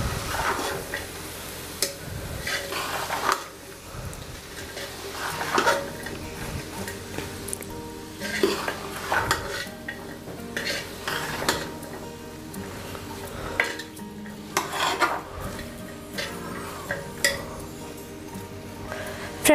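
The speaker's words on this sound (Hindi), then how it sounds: "अब हम वेजिटेबल्स को मसालों में अच्छे से मिक्स कर देंगे।" A spatula stirs potato, carrot and peas with spices in a pan for mixed vegetable curry, giving repeated scrapes and clinks against the metal over a faint sizzle.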